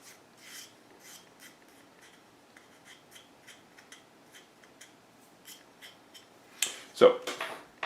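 Quiet, intermittent scraping and rubbing as leftover tape is worked off a plate by hand, short rasping strokes in an irregular rhythm, close and soft, ending in a few sharper, louder scrapes.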